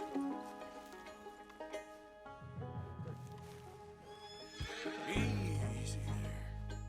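A horse neighs loudly over game music and ambient tones in Red Dead Redemption 2, with hoof clops and snorting nearby, followed by a deep sustained tone.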